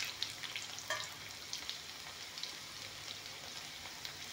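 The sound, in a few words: onions frying in a pan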